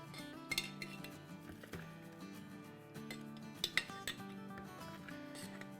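Chili and mixed-vegetable pickle spooned into a glass bottle, with scattered clinks and scrapes of a spoon against the jar over a steady background hum.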